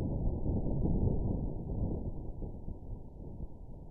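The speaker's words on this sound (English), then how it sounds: "Martian winds heard through inside's pressure sensor." Martian wind captured by the pressure sensor of NASA's InSight lander on Mars, sped up a hundredfold, comes through as a steady low rumbling roar that swells early and then eases slightly, alone with no voices.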